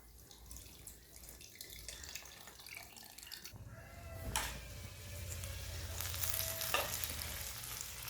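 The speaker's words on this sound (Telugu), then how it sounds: "దీంట్లోకి చింతపండు పులుసు పోసి కలిపేస్తున్నాను" Tamarind extract is poured into a simmering eggplant curry gravy and stirred in, giving a quiet sizzle that swells into a louder, steady bubbling hiss. Two brief splashy knocks from the pan and spoon are heard, with no talking.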